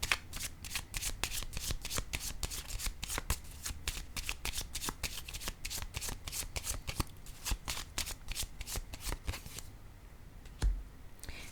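Tarot cards shuffled by hand in quick, steady riffling bursts, close and crisp, ending in a short pause and a final tap.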